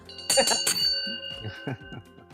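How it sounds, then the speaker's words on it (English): A hand bell is rung several quick times to close a podcast lightning round, the bright metallic strikes close and loud, then left ringing out in a sustained decay while faint voices murmur underneath. "I never get to use this bell in real life."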